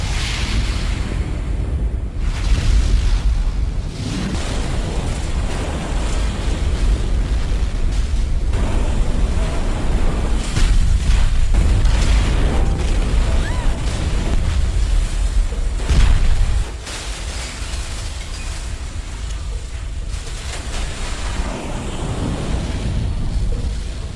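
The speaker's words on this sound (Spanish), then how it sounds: "El camión cisterna de gas caído explotó repentinamente." A fallen gas tanker truck explodes in a film, a long, loud rumbling roar of fire and blast with repeated surges and crackling bursts that eases slightly near the end.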